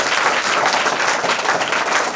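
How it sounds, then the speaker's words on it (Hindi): Loud applause from an audience welcoming a young girl participant, Rakhi Kumari, onto a stage at a local event, a dense steady wash of clapping throughout without talk. "जरा जोरदार तालियों।"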